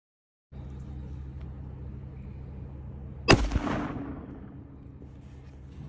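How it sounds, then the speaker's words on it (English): A single loud rifle shot at a mule deer buck while hunting in Sonora, Mexico, a sharp crack over a low engine rumble, followed by a brief echoing tail. "just shot a nice buck"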